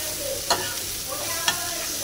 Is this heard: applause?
no